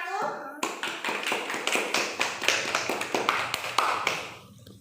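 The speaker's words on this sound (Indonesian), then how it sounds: "Beri tepuk tangan kelompok 1" A classroom of students gives a round of quick, rhythmic clapping for a group, the claps bright and close-packed over a few seconds, tapering at the end, with children's voices faintly underneath.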